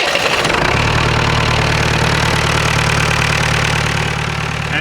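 A car engine cranks briefly after the starter solenoid is shorted with a screwdriver, then catches and settles into a steady, loud, close idle with an even low rumble.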